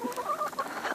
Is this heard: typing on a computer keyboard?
no